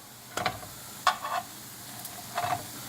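Chickpea semolina cutlets frying in a pan over medium flame as a spatula turns them, with a few short scraping clatters over a faint steady sizzle, close and quiet.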